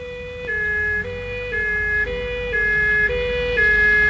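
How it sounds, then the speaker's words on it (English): Warning system siren in a sci-fi film: a loud, close two-tone electronic wail alternating pitch about every half second in a steady repeating cycle, sounding alone without voices. "Sound all warning systems."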